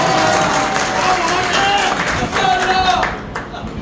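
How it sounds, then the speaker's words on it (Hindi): Audience at a community speech gathering breaks into sustained applause, a dense wash of many hands clapping with crowd murmur, steady throughout and fading slightly at the end. "तालियां बजा दी ना तो ऐसे बजाओ कि उनकी बच जाए"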